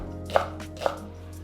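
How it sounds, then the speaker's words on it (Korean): Two soft knife chops through green onion on a cutting board, spaced about half a second apart, close and quiet over a low steady hum. "그다음에 대파 어슷어슷 썰어도 되고 송송 썰어도 되고"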